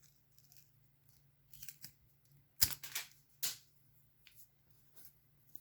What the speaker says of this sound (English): I'm cutting the couch kickboard, which is the bottom front of the couch.